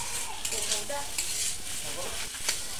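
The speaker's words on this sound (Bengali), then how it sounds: "দেখুন খুন্তি দিয়ে এরকম করে নাড়াচাড়া করে নেবো।" A metal spatula stirs and chops boiled olive pickle in a pan, making continuous scraping and stirring noise over a steady background hiss.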